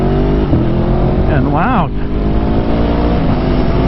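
Aprilia Tuono motorcycle with a Gabro Racing Team tune accelerating through gear changes, steady close engine drone rising and dipping at each shift, with a voice talking briefly over it.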